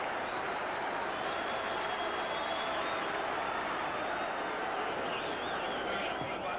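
A rugby crowd roars and applauds in a dense, sustained wash of noise after a successful conversion kick in a 1988 Schweppes Cup third-round match between Pontypool and Swansea, with commentary faintly audible beneath.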